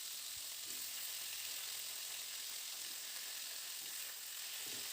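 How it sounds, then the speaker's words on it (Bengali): Potatoes and pointed gourd frying in hot oil, a steady close sizzle with occasional soft stirring knocks, alone without talk. "এবার আলু আর পটলটাকে মিনিট 3-4 সময় ধরে খুব ভালো করে এটাকে একদম লালচে করে ভেজে নেব"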